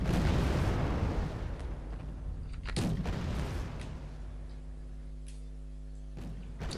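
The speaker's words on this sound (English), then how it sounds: "The T62 provide some support fire" T-62 tanks giving support fire in Wargame Red Dragon, heavy cannon booms with a rumbling roar, two or three sharp blasts fading into distant rumble over a steady low drone.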